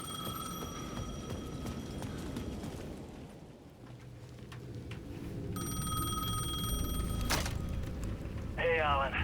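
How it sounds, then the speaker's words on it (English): A payphone at the edge of a plaza in the game Alan Wake 2 rings in repeated bursts of a steady electronic tone over a rumbling, busy game soundscape, with a brief burst of noise near the end. "The payphone at the edge of the plaza was ringing again."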